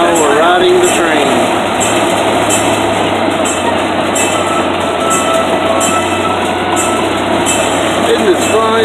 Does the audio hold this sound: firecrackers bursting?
no